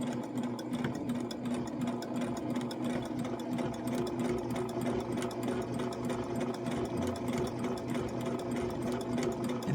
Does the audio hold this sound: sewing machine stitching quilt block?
yes